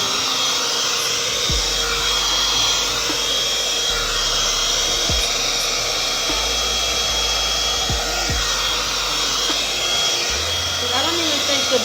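An amika Double Agent straightening hair dryer blows steadily on hair, a constant close, loud airy whir lasting the whole stretch, with a few soft low bumps as the brush moves.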